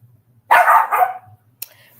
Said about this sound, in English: I'm not in the mood for y'all barking